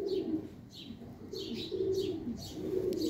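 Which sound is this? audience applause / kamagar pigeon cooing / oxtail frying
kamagar pigeon cooing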